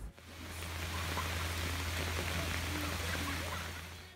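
Morning rain falling at a Kumarakom property in Kerala, a steady even wash of patter that holds at the same level throughout, with no talk.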